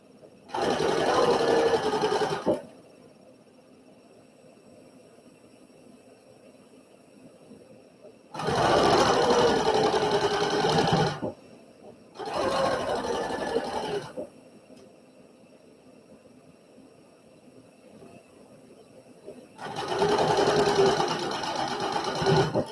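A sewing machine stitches a quilt block seam in bursts: four runs of steady, close mechanical whirring, each lasting a few seconds, separated by quiet pauses.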